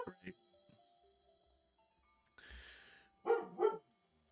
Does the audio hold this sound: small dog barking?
yes